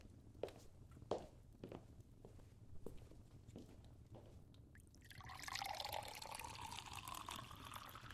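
Water is poured into a glass in a quiet ASMR bedroom setting, after a few soft, scattered taps and knocks. A rising, bubbling fill sound then runs close and clear for the last few seconds.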